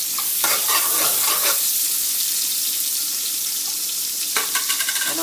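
Butter melting and sizzling in a pan for Haitian stew fish, a loud, close, continuous hiss with crackling spits and a few stirring scrapes, no one talking.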